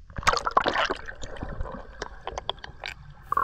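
A diver splashes into the water of a secluded spring: sloshing and gurgling splashes near the microphone, with a burst of splatter early and smaller liquid movements that continue to the end.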